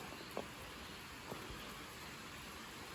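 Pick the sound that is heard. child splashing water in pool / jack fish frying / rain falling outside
rain falling outside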